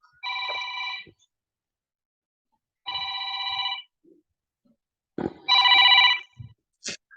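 A telephone bell rings in three bursts of about a second each, with a clear warble and long pauses between them, and a few soft knocks and clicks in the quiet gaps.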